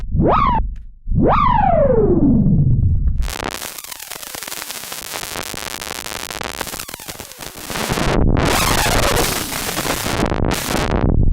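Harsh, buzzing synthesizer tones with foldback distortion, two rapid downward sweeps, then a dense crackling distorted wall of noise with rising and falling swells, loud and alone.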